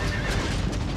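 Horses neigh during a battle in Shogun 2: Total War, a loud, dense burst of whinnying layered over rumbling battlefield noise, lasting about a second.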